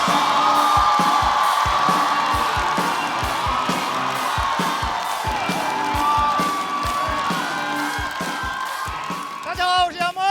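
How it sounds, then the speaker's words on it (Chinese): Applause and cheering from the audience at a stand-up comedy competition show, loud and sustained throughout with rhythmic stage music thumping beneath, and a voice rising briefly at the end. "掌声欢迎"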